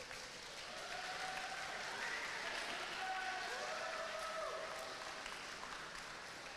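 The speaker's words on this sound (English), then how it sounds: "Please give them a round of applause." Applause rises for senior swimmers at a high school swim meet between Morristown Beard and Morristown, a steady, even wash of many hands clapping, somewhat distant and quiet, with faint whistles or cheers inside the crowd noise.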